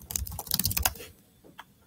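Quick, close clicking of keys on a Chromebook keyboard as a name is typed, a dense burst of taps for about a second, then a few scattered keystrokes in a quiet room.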